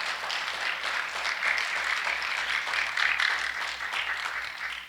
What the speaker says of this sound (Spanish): Dele un aplauso al Señor porque Dios es espíritu.